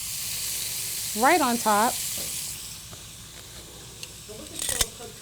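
Bell peppers tipped into a hot pan of sizzling green beans give a steady frying hiss, with a burst of crackle at the end; a person speaks briefly over the sizzle.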